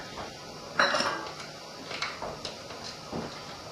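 A spoon knocks and scrapes inside a bowl while flour and batter are mixed, a few irregular clinks and taps at moderate volume, no one speaking.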